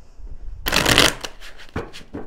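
Tarot cards shuffled close up, one loud riffling burst followed by several shorter, softer shuffling strokes, with no talking.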